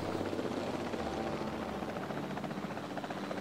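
Helicopter in the video game Jurassic World Evolution 2, a steady loud rotor whir with constant chopping throughout, no talk over it.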